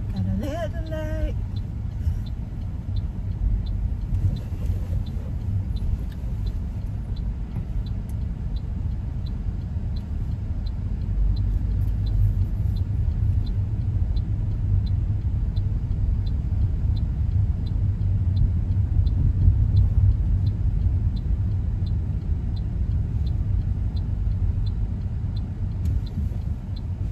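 A car accelerating as the driver presses the gas, steady low engine and road rumble swelling gradually toward the middle and staying loud, with people talking faintly inside.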